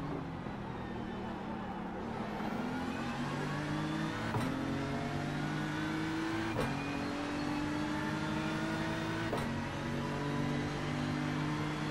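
Race car engines howl steadily through gear changes at the Bathurst 12 Hours while closing on and passing a Ferrari, loud and continuous with periodic shifts and no talk.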